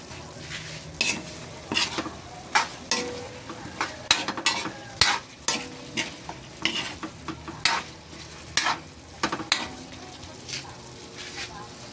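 Sotanghon noodles with chicken being stirred and fried in a pan: a steady sizzle under repeated sharp scraping strokes of a utensil against the pan, roughly one every second, close and clear.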